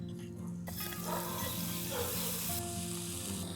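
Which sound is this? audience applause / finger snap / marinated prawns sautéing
marinated prawns sautéing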